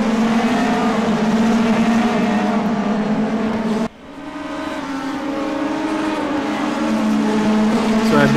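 Race cars roar through a sim racing video game, a loud, sustained engine drone that cuts out sharply for an instant midway, then builds back to a steady whine.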